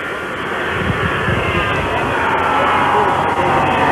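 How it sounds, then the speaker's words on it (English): A jet airliner approaches to land at a Dallas airport in 1963 ahead of a presidential arrival, heard as a steady, fairly loud broadband roar that holds evenly and swells slightly toward the end. "It's another jet approaching now."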